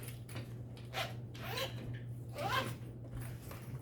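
A zipper is handled while a sewing pattern is made up, giving several short rasping zips in quick bursts, faint and close against a low steady hum.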